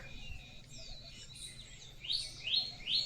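A peacock calls outdoors on a farm, with three loud rising cries near the end over a faint background of other bird chirps.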